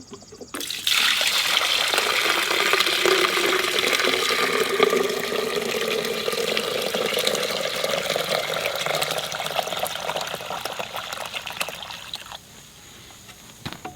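Liquid pours steadily from a 5-gallon pail with a small vent hole punched beside the spout, a smooth continuous gush lasting about eleven seconds before tapering off, close and fairly loud with no talk.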